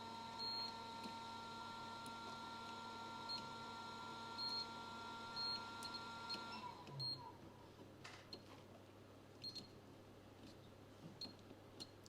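Multimeter continuity buzzer beeps in short scattered pips while capacitors on an LED TV panel are checked against ground, faint and intermittent over a steady electrical hum.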